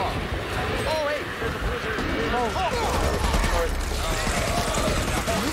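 Gunfire in the Back 4 Blood shooter game, sharp repeated bursts and shots running through the whole stretch under frequent shouting and excited talk.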